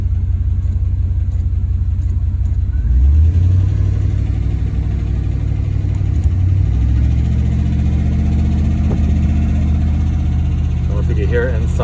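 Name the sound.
car engine revving at 2000 RPM with lifter tick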